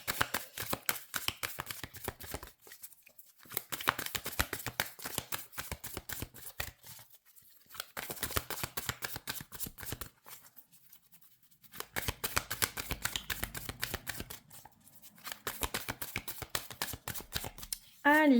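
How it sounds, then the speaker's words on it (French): Tarot or oracle cards are shuffled and drawn in a steady series of crisp, riffling bursts with short pauses between them. The sound is close and fairly quiet, and a voice speaks French briefly over it. "on va prendre 3 premières cartes et puis on ira les recouvrir"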